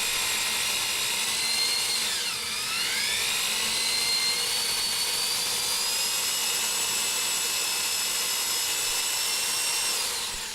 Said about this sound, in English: I'm drilling some holes to put in threaded inserts for leg levelers to be installed on the bottom of both pads